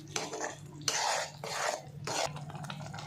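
Chicken curry mixture being stirred in a pot, with bursts of scraping and sloshing from a spoon against the metal in three or four strokes at close range, no talk.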